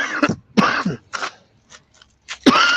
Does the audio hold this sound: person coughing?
yes